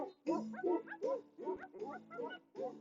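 A dog gives a run of short, rhythmic barks and yips, about seven in under three seconds, close and fairly loud with no one talking.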